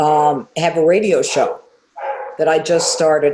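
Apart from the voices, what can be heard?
dogs barking in a home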